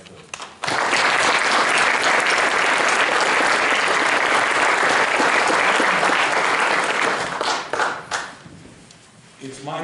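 A round of audience applause honoring relatives of 10th Mountain Division servicemen at an evening commemorative event, bursting in abruptly and holding full and dense before thinning out and fading near the end.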